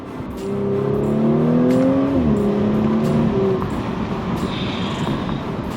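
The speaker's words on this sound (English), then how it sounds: "If you haven't seen this car kind of rip and drive, now you get a chance to." A B9.5 Audi S4 with a stage 2 tune accelerates hard, its engine note climbing through a gear, dipping at a shift and climbing again, loud over steady road and wind roar.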